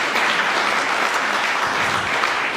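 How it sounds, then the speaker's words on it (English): An audience at an appreciation event in a hall breaks into sustained applause, a dense even clapping that holds steady throughout. "It deserves applause."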